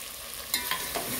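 A spoon scrapes and stirs through biryani masala, salt and fried potatoes in a pan, three quick scraping strokes with a soft sizzle underneath, close and clear with no voices.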